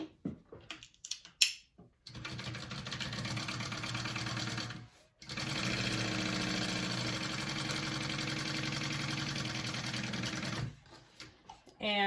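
A sewing machine stitches a seam on a fabric bag, its fast rattling hum running in two long bursts separated by a brief pause, with short starts and stops at either end and someone talking.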